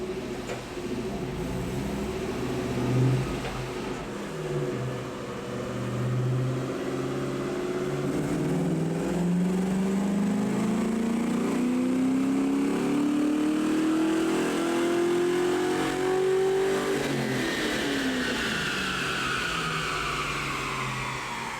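A car engine on a Dynojet dynamometer revs steadily upward in pitch under heavy load for about fifteen seconds, peaking around 206 horsepower, then drops off as the throttle closes; loud and continuous.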